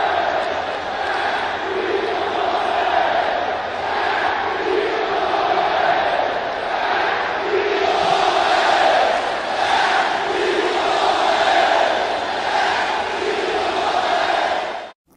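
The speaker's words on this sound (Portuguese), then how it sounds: "imagens da torcida vibrando com o Igor Gomes." Football fans in a stadium cheer and chant in a loud, sustained roar, swelling in pulsing waves for about fifteen seconds before cutting off abruptly.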